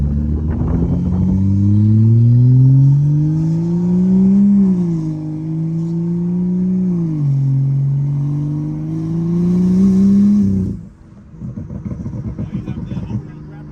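A BMW N55 turbocharged engine in a 335i or 535i revs on a test drive, its tone rising and falling in long sweeps before dropping off sharply, with a clattery rumble at the end and people talking in the car.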